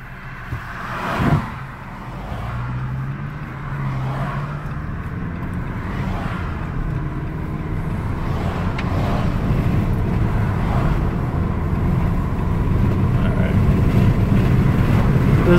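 A defective 2018 Jeep Compass pulls away and accelerates, its engine and road noise building into a steady, swelling rumble with wind noise as speed climbs.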